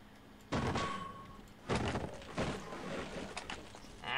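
Crowbar strikes in the game Half-Life, three heavy thunking impacts with swishes, spaced irregularly and fairly close, over low background game ambience.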